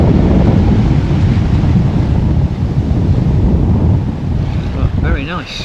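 Strong wind roars at sea off Grenada, a loud steady rumble of gusts buffeting the microphone aboard a sailing boat, with water wash beneath and a faint whistle near the end.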